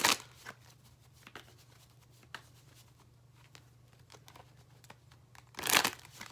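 Tarot cards are shuffled in quick crinkly bursts, loud at the start, soft riffles through the middle, and a louder flurry near the end, with a steady low hum underneath.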